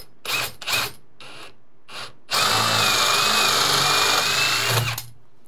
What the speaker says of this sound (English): I'm gonna take a 3/4 inch bit and make a hole here